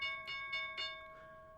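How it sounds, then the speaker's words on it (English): A stock market closing bell rings in three quick strikes, each leaving a long tonal hum that slowly fades, faint and heard alone without talk. "Okay, that's the closing bell."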